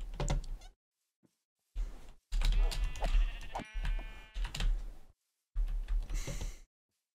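Several sheep bleat in Minecraft, a run of separate blocky cries with short silent gaps between them, close and fairly loud with no talking over them.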